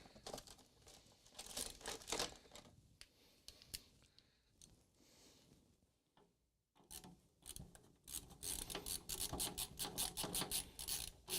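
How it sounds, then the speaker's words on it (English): Phillips screws being worked out of the back of a Tandy 1000 RL computer case, with close, quiet scraping and rasping turns, a brief lull midway, then denser rapid ratcheting scratches toward the end; no talking. "we just need to take off some Phillips screws that are along the back"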